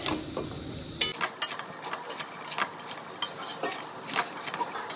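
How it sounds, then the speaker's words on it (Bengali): Boiled potatoes and chickpeas are stirred and sautéed in a pan, with an irregular run of close spatula scrapes, clinks and knocks against the metal and a soft cooking hiss underneath. "সেদ্ধ করা আলু আর কাবলি ছোলাটা দিয়ে দেবো। এখন আমি সুন্দর করে কষাবো।"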